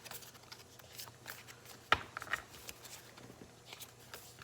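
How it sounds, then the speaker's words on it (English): Soft shuffling of oracle cards, with light papery brushes and a sharp snap near the middle, close and quiet. "my shuffling is not good"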